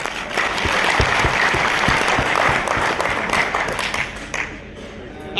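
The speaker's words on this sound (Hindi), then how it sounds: "और इसके लिए तो ताली बनता है" A large audience at a Shree Cement success celebration bursting into loud, dense applause that holds steady for several seconds before tapering off near the end.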